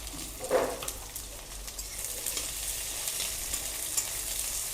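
Chopped onions frying in a pan for a home-style chicken dish, a steady crackling sizzle after a sharp initial hit as they go in, with light stirring, close and even.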